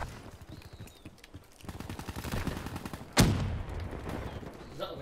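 Gunfire in Black Ops 3, with rapid automatic bursts building up and a sharp loud blast near the middle, overlapped by voices talking.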